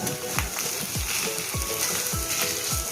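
Taro leaves cooked with a hilsa fish head sizzle steadily in hot oil while a spoon scrapes and stirs the pan in a regular rhythm, about five sweeping strokes, close up and with no talking.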